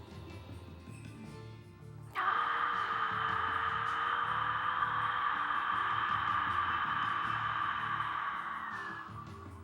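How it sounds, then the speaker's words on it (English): Ujjayi breathing without voice during yoga: one long, steady, breathy hiss from the throat starts abruptly and holds for about seven seconds before fading, close and alone. "you will create the sound of ujjayi"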